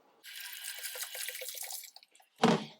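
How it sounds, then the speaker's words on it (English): Cleaner poured into water in an ultrasonic cleaner tank makes a steady, close pouring splash for about two seconds, a few trickles follow, then a short louder splash or drop lands near the end. "we have to add some of our cleaner into just our water here, and we're actually going to throw in the whole thing"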